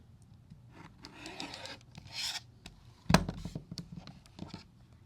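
A rotary cutter slices excess fabric from the edges of a quilt block, a few scraping rasps and rubs with one sharp cut near the middle, close and clear with no talk.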